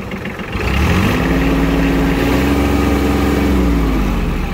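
The small diesel engine of an Iseki Sial 243 Japanese mini tractor catches and settles into a steady, throbbing idle, loud and close, with no talk.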